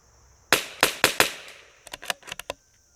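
Whidden Gunworks Criterion CZ 457 rimfire rifle fired at a range: four sharp cracks in quick succession, then a softer cluster of about six quicker pops, close and distinct with no talk.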